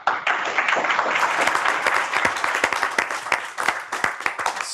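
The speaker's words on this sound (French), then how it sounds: "Sous les applaudissements nourris ici à Paris" Enthusiastic applause from a large audience at a poetry contest final in Paris, dense and sustained with crisp individual claps standing out, filling the room without any voice on top.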